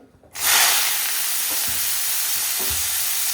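Hot cooking oil sizzles in a pan for vegetable upma, bursting into a loud, bright hiss after a short quiet moment and then holding steady, with faint soft thumps underneath.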